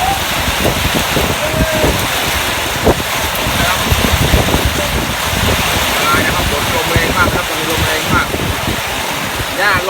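Steady rain hisses across the whole clip, broadband and continuous, with scattered thuds and clatter beneath; a voice speaks intermittently under the downpour.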